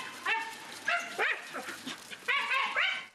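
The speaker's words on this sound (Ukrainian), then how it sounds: "І ці собаки – ще один клопіт для цілого будинку." Stray dogs kept in an apartment bark and yelp indoors, several sharp barks in uneven bursts with whining between them, close and fairly loud, with no talking.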